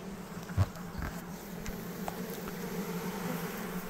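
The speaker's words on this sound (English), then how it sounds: "And then the bees are moving in" A low, continuous buzzing of many honeybees close by at a hive entrance, humming steadily as a swarm moves into a nucleus hive, with a few soft knocks and bumps near the start.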